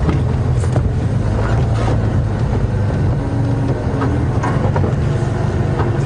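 A safari vehicle engine idles along at low revs while driving slowly at a game reserve, a loud, steady low rumble from close by with no talk.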